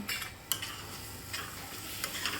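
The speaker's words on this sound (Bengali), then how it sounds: "আবারও খুন্তির সাহায্যে ভালো করে নেড়ে চেড়ে নিলাম" Spatula stirring cabbage curry in a pan, soft scraping strokes over a quiet sizzle, with a few distinct scrapes spaced through the short stretch and no voices.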